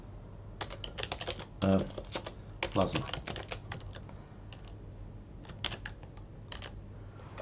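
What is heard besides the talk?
typing on computer keyboard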